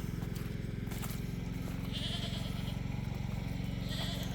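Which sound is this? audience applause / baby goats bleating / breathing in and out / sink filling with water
baby goats bleating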